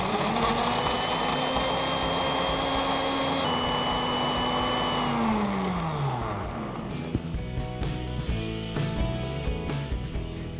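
A blender whizzes milk and a broken mini doughnut into a freak shake base: a loud, steady motor whine that spins down after about six seconds, followed by rattling clatter as the jar settles.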